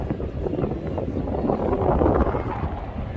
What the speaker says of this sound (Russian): Очень сильный ветер сегодня.